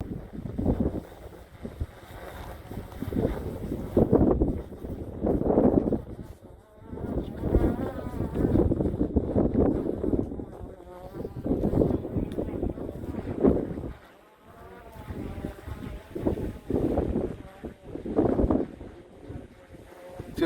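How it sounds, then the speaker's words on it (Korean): Strong wind gusts hit the microphone at a school drone-flying field in Seogwipo, Jeju, rumbling in uneven surges beneath a faint whine that may be a drone, while a person talks over it. "바람이 굉장히 많이 불고 있어서"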